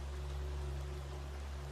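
Rain falls on a caravan at night, a faint, even hiss over a low steady hum.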